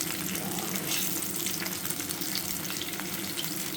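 Thin-sliced ham fries in hot oil with a loud, steady sizzle, a dense crackling hiss heard close up without interruption.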